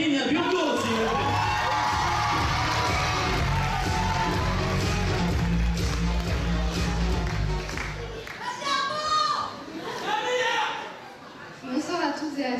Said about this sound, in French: je vous demande tout de suite d'accueillir sous un tonnerre d'applaudissements